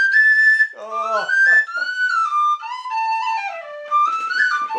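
A bright tin whistle plays a lively melodic tune up close, with quick ornamented runs and slides between held notes.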